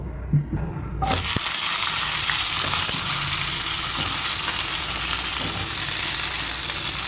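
Cauliflower florets frying in oil for a home-style cauliflower, potato and fish curry, a steady close sizzle starting after a brief quiet moment and continuing loud and even, with faint utensil knocks.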